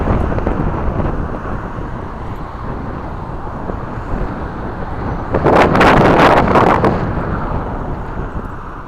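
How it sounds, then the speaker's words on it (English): Warm, gusty wind blowing during an outdoor walk, a constant rough buffeting roar on the microphone with a sharper, louder burst of gusts a little past the middle. "Oh, that wind is blowing."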